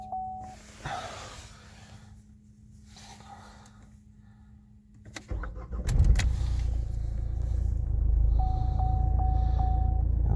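A 2011 Opel Astra J with a 1.7 CDTI diesel engine, prewarmed by a Webasto heater, cranks in freezing weather. A short starter burst is followed by the engine catching and settling into a steady, loud idle.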